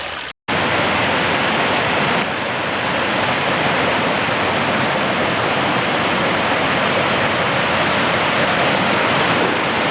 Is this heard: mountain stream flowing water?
yes